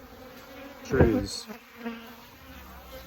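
Honey bees hum softly around their hive during a spring inspection, a low, steady buzz close by while a person speaks over it.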